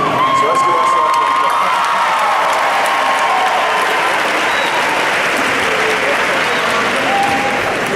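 Loud, sustained applause fills a high school graduation ceremony, with cheering, whoops and shouts mixed into the steady clapping throughout.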